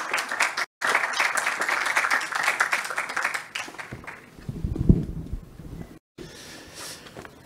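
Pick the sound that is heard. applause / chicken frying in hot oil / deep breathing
applause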